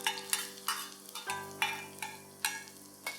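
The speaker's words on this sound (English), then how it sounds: "when the oil is hot, add in your garlic and dried chilies" Garlic and dried chilies fry in hot oil in a pan for stir-fried Chinese cabbage, a soft sizzle punctuated by rhythmic scraping strokes of a spatula, about two per second, with a steady tonal hum beneath.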